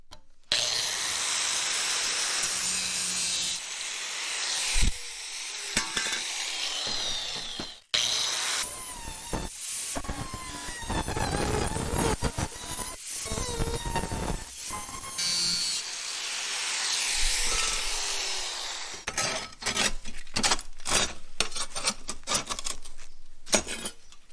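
Metal is being welded. Long, loud stretches of crackling, hissing arc noise are broken by short pauses, and the sound ends in choppier sputtering bursts, close by with no talking.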